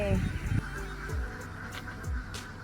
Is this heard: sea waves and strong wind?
no